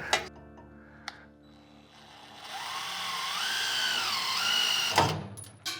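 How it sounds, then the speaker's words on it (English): A power drill drives screws into a skid plate in a shop, with a rising and falling whine that builds mid-clip and is broken by a few sharp clicks and knocks. "one cool thing about these screws is they never seem to go in on the first try"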